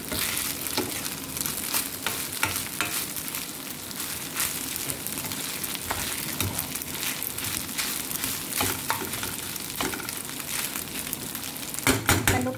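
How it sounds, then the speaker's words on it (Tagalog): Rice fries and is stirred in a hot pan, cooked like garlic fried rice. A steady close sizzle runs throughout, broken by repeated scraping stirs of a ladle, with no talking. "Medyo paluto-lutuin natin yung parang nagsangag lang po kayo ng rice"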